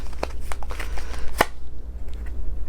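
Rapid riffling of playing cards being shuffled, a few crisp bursts with a sharp snap near the middle, then quieter handling of the deck.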